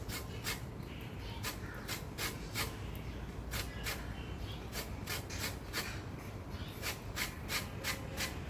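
Light, rhythmic rasping of a small grater over citrus peel while making banana muffins, a steady run of short scrapes close to the mic with no talking.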